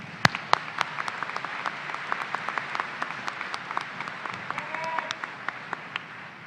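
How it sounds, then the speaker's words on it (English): A commencement ceremony crowd applauds steadily, a dense wash of many hands clapping with a few sharper individual claps standing out, sustained throughout. "Let's give them a round of applause."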